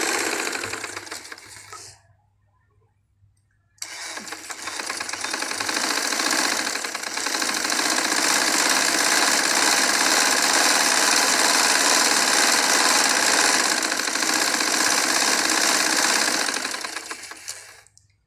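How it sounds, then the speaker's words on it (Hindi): A motorized sewing machine whirs steadily and loudly while winding thread onto its bobbin, starting briefly, pausing for about a second, then running continuously for around fourteen seconds before stopping. "मेरी मशीन जो है मोटर वाली है,"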